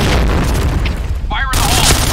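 A grenade explosion in a shooter video game: a loud, sustained low boom rumbling through the whole moment, with a brief voiced call and noisy game effects layered on top near the end.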